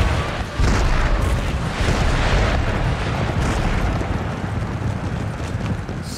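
Artillery fire in the Empire: Total War video game, a continuous rumbling din of distant cannon booms and explosions that stays loud throughout, with no clear single shots standing out.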